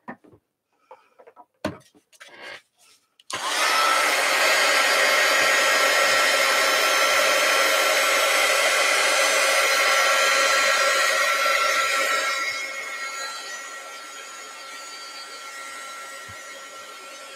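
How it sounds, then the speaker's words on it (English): A few knocks and handling sounds, then a heat gun switches on near the mic, blowing hot air over wet glue in a steady whooshing hiss that drops in level partway through. "Let's hit it with the heat gun."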